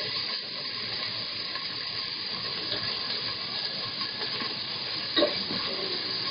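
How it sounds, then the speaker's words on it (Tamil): Onions and chillies frying in a pan for vegetable biryani give a steady, even sizzle and hiss, close and fairly quiet, with one short stirring clatter near the end and no talking. "அது நல்லா வெந்த பிறகு வெங்காயத்தை போட்டு"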